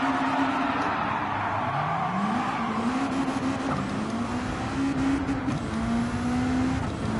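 Race car engine in Gran Turismo 7, driven to warm the tyres: a steady engine drone that climbs in pitch through repeated gear changes, with rising revs and shifts over continuous road noise and no talking.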